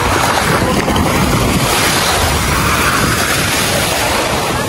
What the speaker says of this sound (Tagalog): So pakinggan nyo po ang tunog ng dagat.